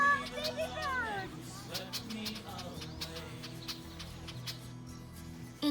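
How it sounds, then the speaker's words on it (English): A young bird outdoors by an old red oak in a botanic garden gives rapid high chirps and calls, close at first and then thinner, over background chatter and talking. "Oh, baby bird!"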